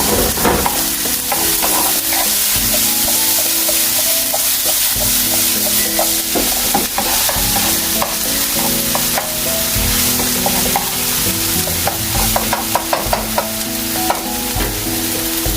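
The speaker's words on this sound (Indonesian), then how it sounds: "bawang putih sama bawang bombay ya. Cocok tadi kita tumis atau saute ya, biar wangi dulu." Garlic and onion stir-fry in a hot pan, a loud continuous sizzle with repeated scraping and clanking of a spatula against the pan, close up and without talk.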